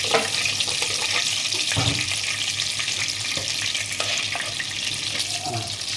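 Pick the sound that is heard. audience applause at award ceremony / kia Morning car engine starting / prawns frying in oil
prawns frying in oil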